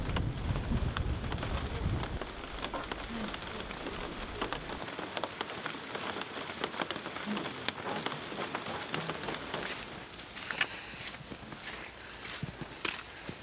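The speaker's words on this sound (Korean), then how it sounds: "흐린 하늘이 심상치 않더니 아니나 다를까 온 숲에 빗소리가 스민다." Steady rain patters and hisses over mountain forest foliage in Japan's Northern Alps, a dense continuous wash with scattered louder drips, no voices.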